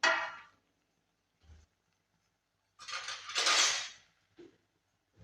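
An eggplant dish stirred in a pot, a few scraping, clinking strokes of a utensil against metal with quiet gaps between, close and moderately loud.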